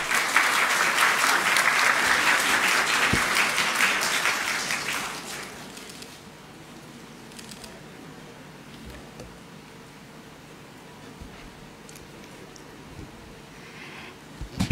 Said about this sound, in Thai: ขอเสียงปรบมือต้อนรับท่านนายกรัฐมนตรีนางสาวแพทองธารชินวัตรบนเว ทีแห่งนี้ค่ะ